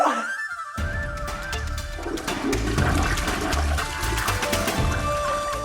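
A toilet flushes with a rush of gushing, gurgling water that starts after a short pause and keeps pouring loudly to the end.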